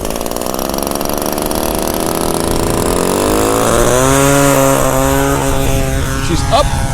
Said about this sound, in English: Engine's a little bit on the rough side, rich side that is.